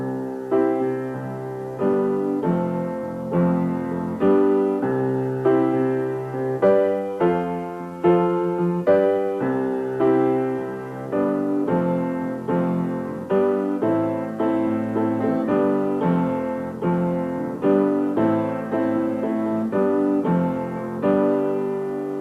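A piano plays a slow chord progression on the sixth, fifth and fourth chords, each chord struck and left ringing in a steady repeating pattern, clear and close with no talking.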